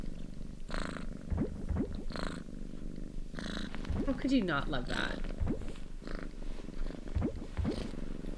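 A cat purrs in the farming life game Coral Island, a steady low rumbling purr running through the whole stretch while a person talks over it.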